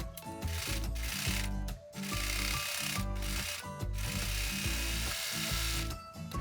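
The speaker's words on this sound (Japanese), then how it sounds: "ここにもロックミシンをかけておきます" An overlock sewing machine serges the inseam of a child's pair of trousers made from echino fabric, giving a rapid mechanical whirr in several sustained runs broken by brief pauses.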